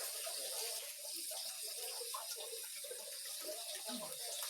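Soy sauce poured into a simmering pot of native chicken adobo, a continuous trickling, splashing stream under faint bubbling, soft and close.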